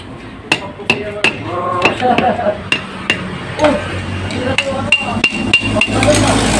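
Sharp metallic hammer strikes ring out in an irregular series, some quick pairs, close and loud, driving a bearing onto the camshaft of a Yamaha Vega Force FI motorcycle engine, with faint background noise between blows.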